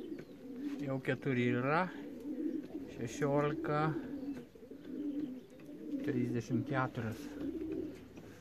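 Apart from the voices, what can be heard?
racing pigeons cooing after arriving home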